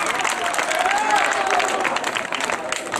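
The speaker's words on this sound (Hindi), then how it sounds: "कई जोरदार तालियां जी।" Steady applause from an audience at an evening ghazal gathering in Mohsinpura, Mau, continuous clapping with some voices underneath.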